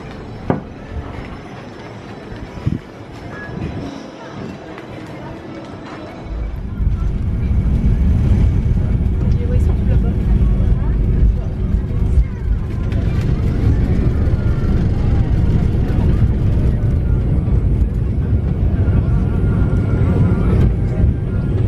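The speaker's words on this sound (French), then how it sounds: "Désolée si on entend du bruit, c'est le tracteur du voisin." A neighbour's tractor engine in Corsica kicks in after a quieter start and then drones steadily and loudly at a low pitch, a continuous rumble filling the background while someone talks over it.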